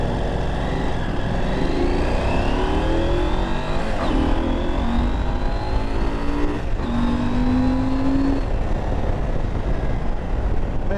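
A 2022 Husqvarna Norden 901 motorcycle engine accelerates hard, its loud close-up roar climbing in pitch through several gear changes over steady wind noise.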